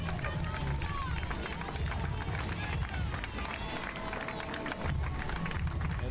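Hungarian spectators cheer and clap for runners at the 2010 Tiszaujvaros ITU Triathlon World Cup, a steady dense roar of crowd noise and applause, with a commentator talking over it.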